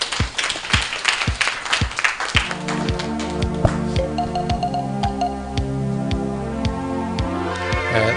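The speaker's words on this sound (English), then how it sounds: "Clap hands for Mr. Kumbula." An audience at a medical refresher course claps, starting with loud, dense applause that thins into scattered claps and lingering hall reverberation.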